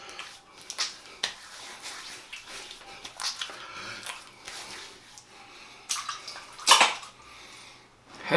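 Water splashes onto a freshly shaved head after a head shave, in a few quick wet slaps and splashes with dripping in between, close by in a quiet room.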